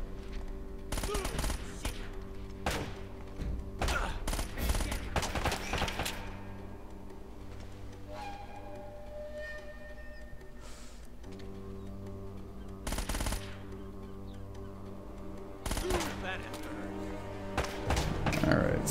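Gunfire in Uncharted: Drake's Fortune, a series of sharp shots in bursts over a steady game soundtrack, with someone talking in between.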